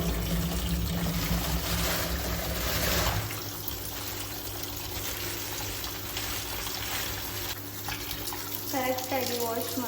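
Tap water runs steadily over fish being washed in a sink, a loud splashing stream that eases to a softer trickle partway through, with brief faint talk near the end.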